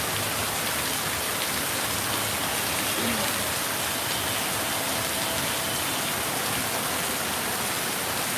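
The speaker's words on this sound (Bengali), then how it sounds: "প্রচুর বৃষ্টি হচ্ছে কিন্তু এখানে" Steady, heavy rain pours down in a dense, continuous hiss with no breaks, loud and close throughout.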